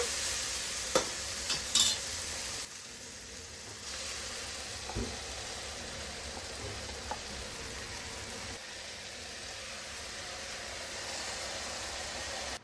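A ground spice paste for an egg and sprouted field bean curry fries and is stirred in a pan, giving a steady low sizzle with a few sharp scraping clicks early on, then settling into a soft continuous fry.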